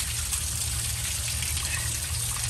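Dark, dirty coolant pours steadily out of the engine of an abandoned 1982 Chevrolet C10 pickup during a water pump replacement. It makes a short, continuous, close-up gushing trickle at an even level.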